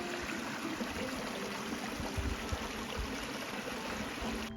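Lates Brook on Fogo Island babbling outdoors, a continuous broadband rush and trickle of flowing water, steady and close with occasional low rumbles.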